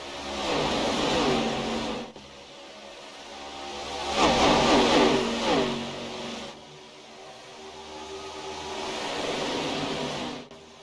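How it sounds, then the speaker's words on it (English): ARCA Series race cars roar past at night in repeated waves, each swelling and fading as they speed by, with a constant rushing drone between passes and no talking. "let's listen into these cars flying by here tonight."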